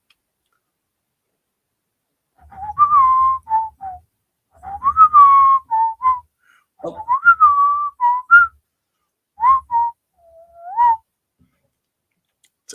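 A person whistles the X-Men theme tune alone in a quiet room, a melody of several short phrases with brief pauses between them, clear and close.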